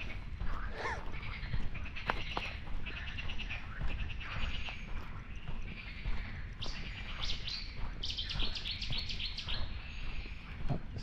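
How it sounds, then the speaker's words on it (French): Several high, chirping bird calls of an unidentified species ring out in a marsh at a nature reserve, with bursts between eight and ten seconds, over a steady bed of wind and low ambient noise. "ça je sais pas ce que c'est comme bruit d'oiseau"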